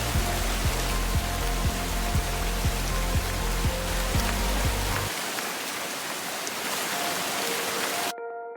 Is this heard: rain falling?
yes